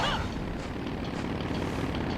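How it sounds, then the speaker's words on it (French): Steady, droning engine roar fills the clip without pause, a continuous buzzing rumble of motorcycles revving close by in the game Castlevania: Legacy of Darkness. "comme vous l'entendez, il y a des motos"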